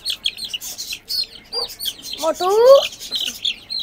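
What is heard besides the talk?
chicks chirping in a cage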